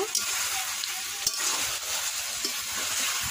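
Chicken meat frying in a pan while being stirred, a dense steady sizzle with scraping and clinks of the spoon, close and loud, with no talking.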